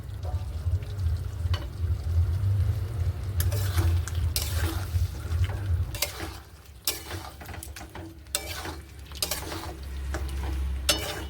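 Chicken kadhai stirred and scraped around a hot pan, with a steady low sizzle under repeated clinks and scrapes of a spoon against the metal, no voices.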